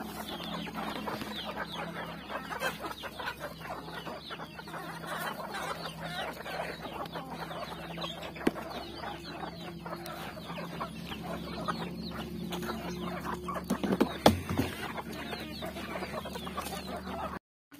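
A flock of village chickens clucks continuously while pecking at scattered grain and rice in the early morning, a busy overlapping chatter of short calls close by with scratching and rustling underneath.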